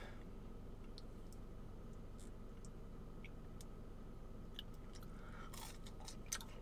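Someone chewing French toast sticks, with soft close crunches and mouth sounds over a steady low background hum; no talking.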